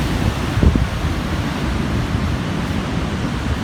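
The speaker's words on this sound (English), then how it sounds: "there are massive swells out there. Like, the waves are insane" Ocean waves from massive swells at a beach, a loud continuous wash of surf and wind noise with a brief rumble near the start.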